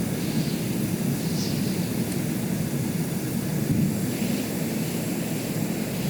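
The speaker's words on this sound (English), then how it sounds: "the number 4 engine mysteriously began to gain more speed" An aircraft engine spooling up in Stormworks, a steady broadband roar with a faint rising whine that builds gradually, with nothing else over it.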